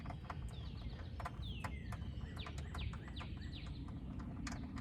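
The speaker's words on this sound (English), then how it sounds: "Ooh, wow, you hear the birds singing?" Songbirds chirp and whistle in short descending phrases over a steady low rumble, with sharp clicking taps scattered throughout during window repair on a 1999 Lexus ES300 in spring, Northern Virginia; the birds sound moderately distant.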